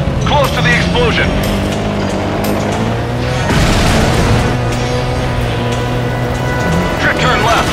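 Explosions boom during a driving stunt in the video game Stuntman Ignition, loud bursts over a constant engine drone with spoken stunt directions running throughout.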